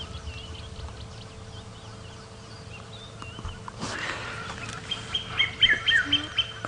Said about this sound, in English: I'm just listening to some cuckoos calling.